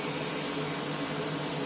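An airbrush blasts thinner through its nozzle to lubricate it before use: a steady, loud, broadband hiss of spray with no pauses, heard alone.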